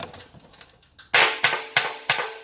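A dust filter on an SBC420 sand blast cabinet is banged to knock the dust out, four sharp metallic clangs in a rough rhythm, close and loud, after some quieter handling knocks.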